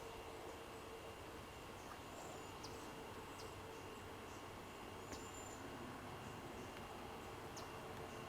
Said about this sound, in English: There's a train coming down the tracks